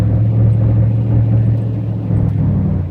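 A 1999 Chevrolet Camaro Z28 convertible with an LS1 V8, about 100,000 miles and an SLP Loudmouth exhaust, gives a loud, deep, steady exhaust rumble with a slight shift in tone late on, heard close up with no talking.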